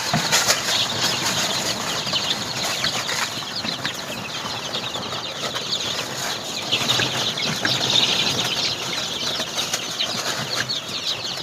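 Young Sonali chicks feed on grain in a farm enclosure, a dense busy rustle of pecking and repeated wing flapping with soft clucking throughout, close and steady.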